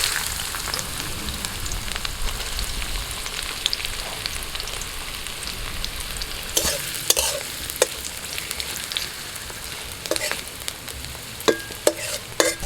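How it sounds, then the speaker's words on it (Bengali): Onion frying in hot oil gives a steady dense sizzle with scattered crackles and pops, loud and close throughout, with no voices. "তেল গরম হয়ে গেছে, এবার আমি পেঁয়াজটা দিয়ে দিচ্ছি।"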